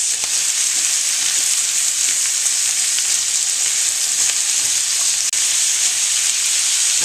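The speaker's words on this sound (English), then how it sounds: "Our carrot and onion mixture is cooking very nicely in this pan." Carrot and onion mixture sizzling and frying steadily in a pan, a continuous close, even crackle and hiss with no pauses and no voices.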